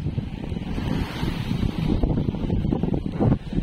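Strong wind gusting across open sea aboard a tuna fishing boat as weather turns bad, a loud, continuous rumbling roar buffeting the microphone with waves washing underneath.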